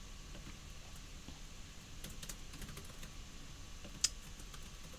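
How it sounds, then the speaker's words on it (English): Fast typing on a loud computer keyboard during a programming lecture, a quiet steady patter of key clicks heard from a distance with one sharper click near the end. "Tom always types really fast and his keyboard is really loud"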